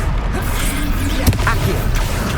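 Expelliarmus spell cast in the video game Hogwarts Legacy during a fight with Percival Rackham: a dense, loud magical burst with a sharp crack near the middle, over constant battle noise and music.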